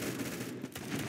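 Rapid gunfire from a first-person shooter game, a dense burst of shots crackling almost continuously for about a second at steady loudness, with no talking.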